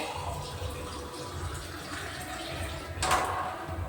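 Water poured from a glass in a steady, low gush, with a brief louder splash near the end.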